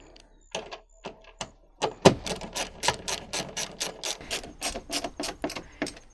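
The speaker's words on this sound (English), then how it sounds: "you're going to remove the 6 perimeter hardware screws" A hand ratchet driving a T30 bit removes the screws from the tailgate panel of a new-body Ram 1500: close, crisp clicking in fast, regular bursts that repeat over several seconds.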